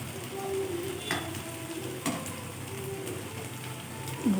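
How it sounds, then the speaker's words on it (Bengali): Cheese Maggi balls frying in oil, a soft, steady sizzle with occasional stirring scrapes and light clinks, moderately quiet and continuous without speech. "বলগুলো আমার ভাজা হয়ে গেছে,"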